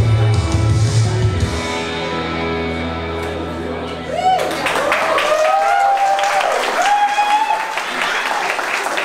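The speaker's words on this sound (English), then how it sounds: "sweet round of applause from the newlyweds" Wedding guests applaud the newlyweds at a Chester wedding, the clapping following music that cuts off partway through, with voices and cheers mixed into the crowd noise.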